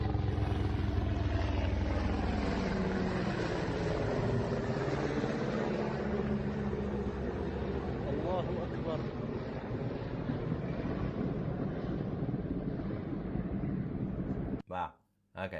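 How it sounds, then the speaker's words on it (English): A loud, steady helicopter engine drone fills the whole stretch, rumbling continuously before cutting off briefly near the end. "You can hear the helicopter in the background."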